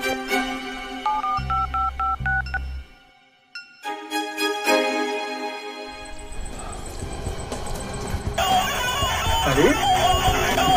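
Telephone keypad dialing tones sound in a village CID comedy skit: a quick run of stepped beeps near the start, then a short pause before a louder, busier mix of sound fills the rest.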